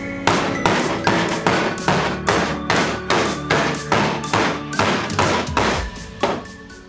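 Steady, rhythmic hammer-and-dolly blows on a Ford Anglia's sheet-metal boot floor panel, about two or three strikes per second, close and loud, each ringing briefly.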